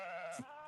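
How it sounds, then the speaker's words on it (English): A California red sheep bleats once, loud and close, a sustained wavering call lasting nearly the whole moment, with a faint rustle at its end. "Saffron is a California red sheep."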